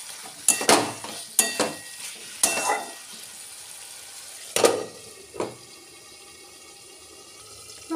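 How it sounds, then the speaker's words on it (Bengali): Potatoes cooking down in a spice masala for a soya chunk curry, with several sharp bursts of sizzle and stirring scrapes in the first five seconds, then a quieter simmering hiss, close up with no talking. "এবার মশলাটা 2 মিনিট কষিয়ে নিয়ে এর মধ্যে আলুটা দিয়ে আর একটু কষিয়ে নেব"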